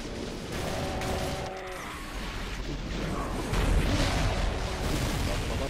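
Chaingunner gunfire and other combat noise in the Doom mod Speed of Doom, a continuous clatter of shots and rumbling under a steady game soundscape, with no voices.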